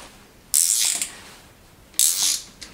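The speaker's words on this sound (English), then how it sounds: "Now I can tighten the retaining pin for the chain guide that we just installed." A ratchet tightens the chain guide retaining pin on a BMW E34 525 td engine during a rebuild, two short bursts of quick clicking near the mic with quiet pauses between them.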